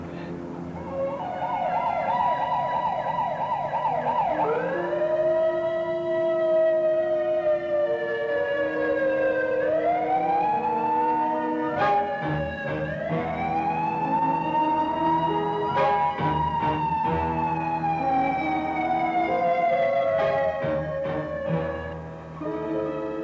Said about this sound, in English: Get an ambulance.